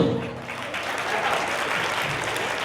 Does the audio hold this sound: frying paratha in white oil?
no